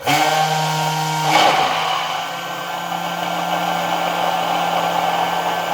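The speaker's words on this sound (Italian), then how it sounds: "A questo punto faccio partire tenendo il frullatore fisso in fondo." An immersion blender held at the bottom of the jar whirs loudly as it mixes homemade mayonnaise. The motor hums steadily, and its pitch dips briefly early on as the mixture thickens.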